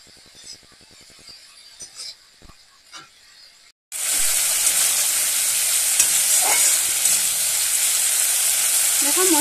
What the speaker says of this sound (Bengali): এখন মশলাটাকে ভালো করে একটু কষিয়ে নেব।